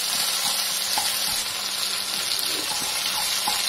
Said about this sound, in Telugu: ఇదిగోండి ఒక్క రెండు నిమిషాలు వేగిపోతాయి